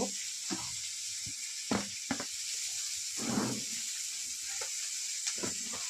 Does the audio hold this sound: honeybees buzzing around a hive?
no